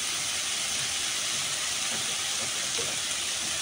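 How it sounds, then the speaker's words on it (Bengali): Fish and onions sizzle steadily in a frying pan, a dense, continuous broadband hiss that stays loud and close for the whole stretch, with no talking over it. "পেঁয়াজগুলো মাছগুলো যেন সুন্দর করে ভাজা ভাজা হয়।"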